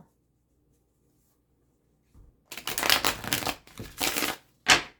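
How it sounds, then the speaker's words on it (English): Tarot deck being shuffled by hand after a quiet pause, a few rapid riffling bursts of crisp card flutter, close and fairly loud, ending with one short final burst. "All right, one more shuffle."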